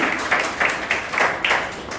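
Audience applause at a heritage event hall in Jamshedpur, Jharkhand, a short burst of handclaps from a seated crowd, moderately distant, with claps coming in uneven clusters.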